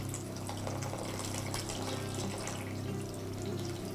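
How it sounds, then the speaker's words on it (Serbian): Water is poured into a baking dish of stuffed onions until they are submerged, a steady continuous gush of liquid filling the pan at close range with no talking. "sad dodajemo vode da se lukovice potope"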